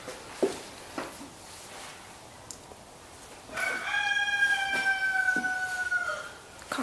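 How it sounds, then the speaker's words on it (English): A rooster crows outdoors behind a historic recreated farmhouse kitchen, one drawn-out cock-a-doodle-doo in the second half, moderately distant and clear, preceded by quiet room tone and a few faint knocks, with no talking. "And there's a rooster out there."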